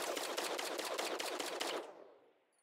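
An auto cannon in a video game fires a rapid, even burst of about a dozen shots, loud and up close, then cuts off and leaves a fading echo tail.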